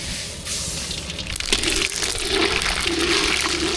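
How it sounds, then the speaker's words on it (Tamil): Mustard seeds dropped into hot oil in a home kitchen while cooking a potato and tomato rice dish, giving a loud, steady sizzling hiss that builds into crackling spatter, close and unbroken. "எண்ணெய் சுடாயிச்சு கடுகு சேர்த்துக்கலாம்"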